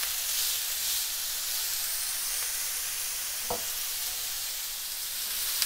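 A hamburger patty sizzles steadily in a hot pan after being flipped, a constant close hiss with a brief faint clink partway through.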